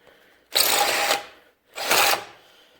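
A Parkside PSBSA 20-LI cordless impact drill bores into concrete in two loud, close bursts of about half a second each, separated by a short pause.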